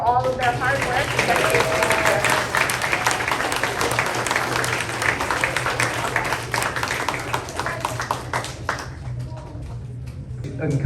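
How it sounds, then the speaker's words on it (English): A school assembly audience applauds the SRC students, a full, continuous round of clapping from a large group that holds steady and then slowly tapers off toward the end, with a low hum beneath. "one last round of applause for the SRC for all of their hard work"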